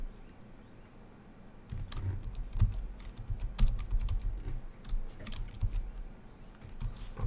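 Typing on a computer keyboard at a desk, a near, irregular patter of key clicks that starts quiet and grows busier in uneven bursts.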